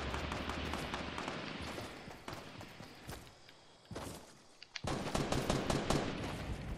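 Minigun fire in a video game rattles in rapid sustained bursts, with a brief pause before another dense burst of gunfire resumes, fairly quiet overall.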